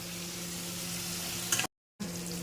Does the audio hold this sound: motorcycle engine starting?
no